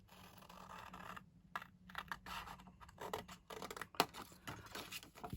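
Scissors snip through paper as corners of a tag or ephemera holder are trimmed at an angle, making short scratchy cuts in uneven bursts, close and fairly quiet with brief pauses.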